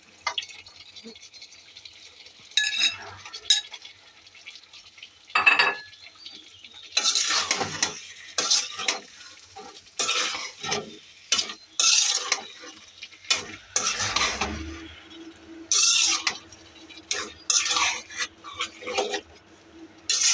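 Tomato is stirred into frying dried kachki fish, with a spatula scraping and clinking against the pan in uneven bursts over a soft sizzle, close and fairly loud.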